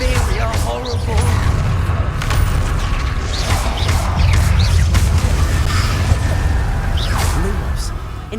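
Spell blasts of Confringo and Incendio in Hogwarts Legacy, with whooshing casts, crackling bursts and booming impacts over a continuous low rumble of game combat, loud and dense throughout.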